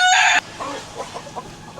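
Chickens cluck in short, soft bursts inside a poultry house on a hot day, following a brief loud, bright squawk at the start.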